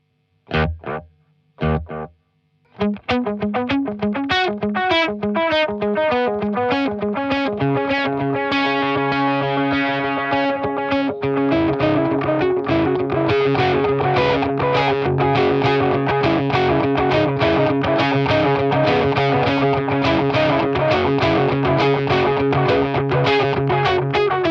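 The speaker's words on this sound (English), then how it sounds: "So as you can hear, I love delay and reverb" Guitar notes are picked and strummed through a Keeley Electronics DDR delay and reverb pedal, with echoes piling into a dense, shimmering wash that rings on continuously.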